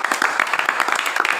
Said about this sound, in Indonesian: Kita kasih tepuk tangan dulu kelompok.